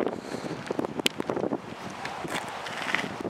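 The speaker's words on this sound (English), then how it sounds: "And this place is windy" Wind gusting across open countryside on a rainy day, a steady rushing buffet on the microphone with a few sharper gusts, no talk.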